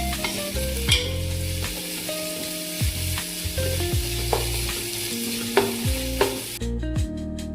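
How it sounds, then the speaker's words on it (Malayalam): Tomato frying in a pan for prawn biryani, a continuous close sizzle with regular stirring scrapes, while a steady musical background plays beneath. "ഇനി ഇതൊന്ന് നന്നായിട്ട് കുക്കാവുന്ന വരെ ഇത് ഇളക്കിക്കൊണ്ടിരിക്കാം."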